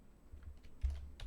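A few quiet keystrokes tap out a name on a computer keyboard, soft and close, in a brief burst of clicks.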